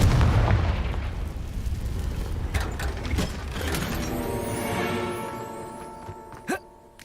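Confringo fire spell blasts in the video game Hogwarts Legacy: a heavy booming explosion that rumbles and fades, followed by ringing magical tones and a small late pop.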